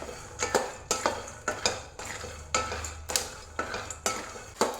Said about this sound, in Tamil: மிதமான சூட்டிலே கொட்டையை நல்லா வறுத்து எடுத்துக்கலாம் வாங்க.